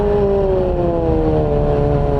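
A sport motorcycle like a Ninja drones past on a busy mountain road, its engine tone sliding slightly lower as it goes, loud and close with traffic rumble underneath.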